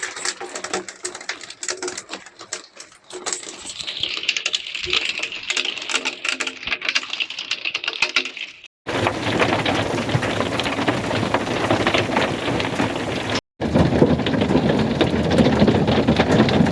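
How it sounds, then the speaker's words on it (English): Hail and heavy rain pound down during a thunderstorm on a Drakensberg mountain trip in October, a dense loud clatter, softer and patchier at first, then a harsh steady roar broken by two brief cuts. "And then the hail came."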